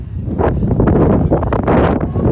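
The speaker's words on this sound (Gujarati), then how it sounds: "અને આમને જોઈને તો લાગશે જ કે કેટલી પવન હતો" Strong wind buffets the microphone during an outdoor walk near a holiday home, a loud, continuous roaring rumble that surges and eases for the whole stretch without any talking.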